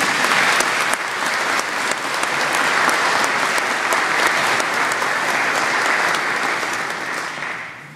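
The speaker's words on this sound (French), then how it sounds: "Vous avez envie d'applaudir encore une fois" A parish congregation gathered for the 75th anniversary of Précieux-Sang applauds again for a visiting priest one morning, loud sustained clapping that fills the room and tapers off at the very end.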